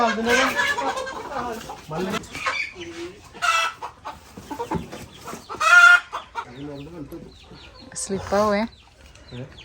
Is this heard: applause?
no